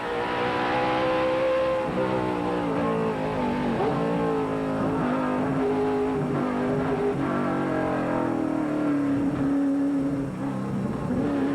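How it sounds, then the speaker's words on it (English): A loud, steady vintage IMSA GT, Trans Am or NASCAR stock car engine roars continuously at high revs on a road course at Lime Rock, its pitch rising and dipping as the car shifts and speeds up. "Now listen to the engine note."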